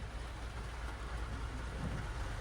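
Rain pours steadily onto a moving car, a dense even hiss and patter on the body with a low road rumble beneath, continuous and fairly faint, with no voices.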